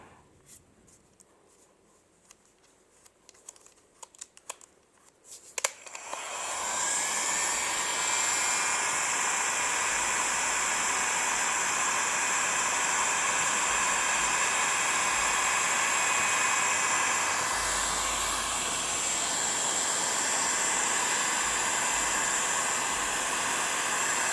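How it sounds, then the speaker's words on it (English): A heat gun running on its highest setting blows a steady, loud broadband rush of air while woodburning gel dries on a wooden cutting board. Faint scratchy handling comes first, then the blower starts after several seconds and holds for the rest. "you take it up to the highest setting on your heat gun"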